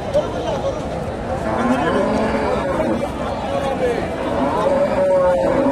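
Cows moo at a busy cattle market in Bogura, low drawn-out calls rising over steady crowd chatter and talking nearby.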